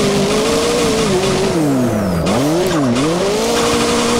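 Tires squeal and an engine revs hard as a car drifts in the racing sim Assetto Corsa, loud and continuous with the pitch swooping down and back up through the slide, no talk.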